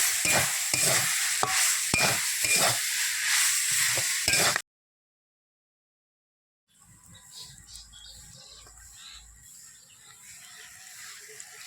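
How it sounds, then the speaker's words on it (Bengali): Broken fish head frying in oil while being stirred, a loud dense sizzle with rhythmic spatula scrapes, then a gap of silence before a quieter, fainter sizzle returns. "এপাশে মাছের মাথাটা ভেঙে ভালো করে আমি ভেজে নিচ্ছি।"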